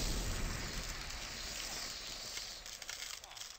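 A steady, dense crackling hiss from a Minecraft zombie villager being cured with a splash potion of weakness and a golden apple, loud at first and thinning slightly toward the end with a few sharper pops.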